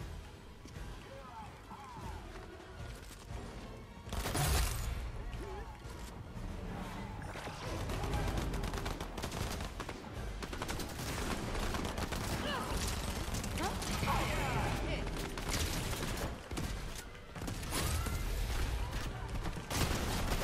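Dual SMGs fire in Fortnite in scattered rapid bursts amid mechanical clicks and busy game effects, with someone talking over much of the action.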